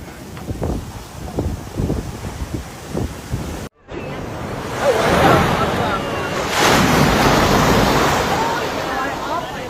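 Heavy surf crashes at Crystal Cove State Park, California, during high tides and coastal flooding, with a broad, roaring wash of breaking waves and wind buffeting the microphone. Someone speaks briefly at the start before the surf takes over.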